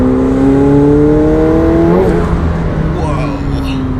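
A 2018 McLaren 720S accelerates hard, its loud engine note climbing steadily in pitch for about two seconds, then dropping back as it shifts and pulls again, with cabin roar throughout.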